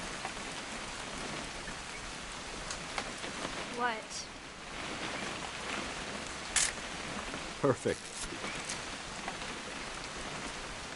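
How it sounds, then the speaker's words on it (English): Steady rain falls throughout an outdoor scene in the video game What Remains of Edith Finch, a constant wash with a few brief clicks and knocks, while voices speak briefly over it. "It's gonna rain the whole weekend, isn't it?"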